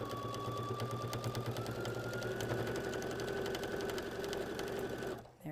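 Sewing machine stitching binding around a quilted hot pad, running in a fast steady whir of rapid needle strokes close up for several seconds, then stopping abruptly at the end.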